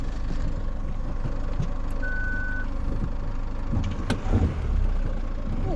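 Vehicle reversing in a quarry, its engine rumbling steadily while a single faint reversing beep sounds and a brief clunk follows near the end.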